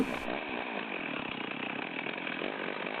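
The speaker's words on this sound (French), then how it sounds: "La tronçonneuse bascule, on la laisse tomber" A chainsaw runs loud and steady throughout, its rough, high-revving whine grinding continuously as it cuts through a log.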